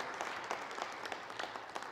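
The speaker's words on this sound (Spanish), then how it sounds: "Un aplauso al Señor por nuestra hermana" A church congregation gives a short round of applause for a visiting sister during a Lenten talk, a fairly faint, even patter of many hands clapping.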